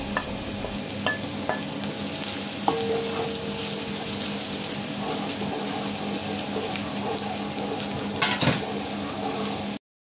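Garlic sizzles in a pan after onions have softened, a steady close frying hiss with faint stirring scrapes and a few brief clinks.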